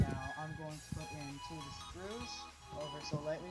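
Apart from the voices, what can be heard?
No everyday noise stands out behind the speech.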